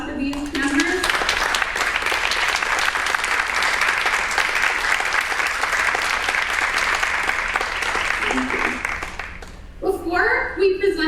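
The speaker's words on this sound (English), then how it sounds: "Can we get a round of applause for these members?" A high school audience at a Mu Alpha Theta induction ceremony claps in loud, sustained applause for the newly inducted members, dense and steady for several seconds before fading as voices return.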